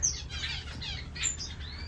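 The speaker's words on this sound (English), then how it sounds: "a bunch of newly fledged birds." Zebra and spice finches kept as pets in an aviary, newly fledged chicks among them, give soft, busy chirps and squawks over a low background hum, with no voices.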